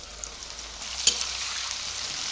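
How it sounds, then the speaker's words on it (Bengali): Carrot, potato and turnip frying in a pan with salt and turmeric, a steady soft sizzle with a brief sharper crackle midway, close and continuous, no voices. "ভালো করে ভেজে নেব।"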